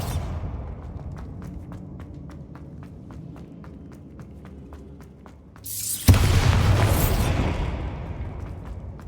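Rapid, evenly spaced footsteps patter in a Hogwarts Legacy scene before a Bombarda spell erupts in a sudden loud blast, followed by a long, crackling, rumbling decay.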